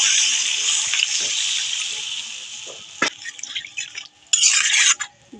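Water pours into a pan of potato curry, a close rushing splash that fades, followed by clinks of utensils against the pan and a second burst of water.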